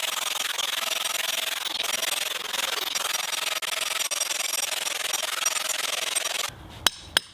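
Grinding wheel smoothing the face of a poured concrete retaining wall, a steady abrasive rasping that runs continuously and close, then cuts off near the end with a couple of sharp knocks.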